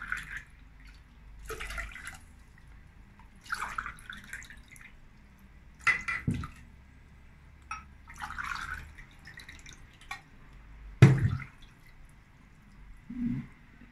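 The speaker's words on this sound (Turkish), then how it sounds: "Arkadaşlar şimdi 4 su bardağı da su koyuyoruz" Water is poured over sugar in a pot for syrup, heard as a series of scattered splashes, drips and sloshes with short pauses between, close and fairly quiet.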